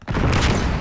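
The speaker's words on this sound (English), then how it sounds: "Sending flashbang." A flashbang grenade detonates in Call of Duty Black Ops 6 multiplayer, a single loud, close blast that hits at once and holds as a dense, sustained roar through the short moment.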